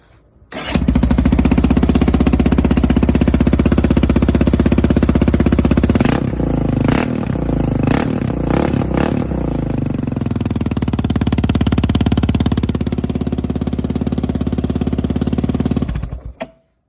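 Yamaha Raptor 660 ATV with a Lexx exhaust starting up and idling loudly close by, a rough, thumping single-cylinder rumble with several sharp throttle blips midway before it shuts off.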